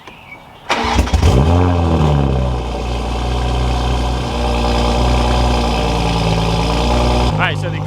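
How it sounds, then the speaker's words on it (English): A Toyota A90 Supra engine cranks and catches with a loud surge, then settles into a steady, close idle hum. "Alright, so the car has started up now."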